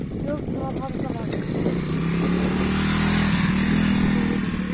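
A motorcycle engine revs and rumbles up close, rising into a sustained higher drone, with clattering and people talking and shouting over it.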